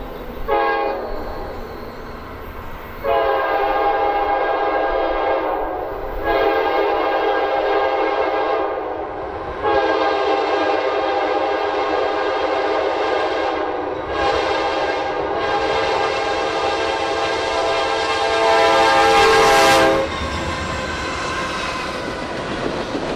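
A westbound manifest freight train, led by DPU locomotives, passes near the Alabama state line. Its horn sounds in several long, loud blasts over the steady rumble of the locomotives and cars.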